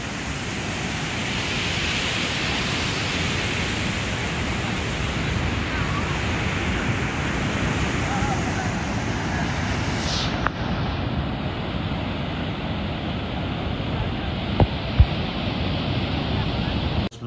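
Ocean waves at night on Puri beach, a steady, loud wash of surf with wind rushing over the microphone, continuing without clear breaks.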